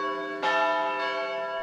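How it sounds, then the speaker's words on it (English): Noon church bells ringing at St. Mary's Church in downtown Austin, Texas: a loud, sustained bell tone with one strong stroke partway through, alone with no voices. "When the noon hour bells rang at St. Mary's Church in downtown Austin"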